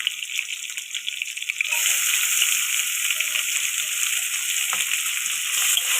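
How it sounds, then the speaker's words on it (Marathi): Onion dropped into a hot oil pan for kanda poha: a steady loud hiss and sizzle that swells after a moment and holds, close and continuous, with no talk. "आता आपण याच्यामध्ये कांदा टाकून घेऊया"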